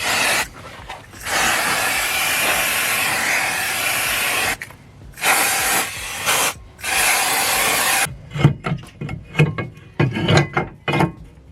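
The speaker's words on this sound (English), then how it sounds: "a little bit of brake cleaner, because you can see, I don't know if you see it, the oily residue on it." Brake cleaner sprays in long hissing bursts onto an oily brake disc of a Mini that failed its MOT, several loud close blasts separated by short gaps, followed by rapid scrubbing and rubbing strokes.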